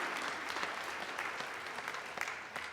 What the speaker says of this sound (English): Please give it up, a round of applause for them.